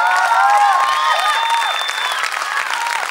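Audience applause and cheering at a live singing contest show, a dense steady wash of clapping from a large crowd with whistles and shouts over music, loud and sustained throughout.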